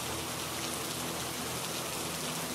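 Rain falls steadily as a dense, even hiss of drops hitting surfaces, continuous and fairly loud with no voices.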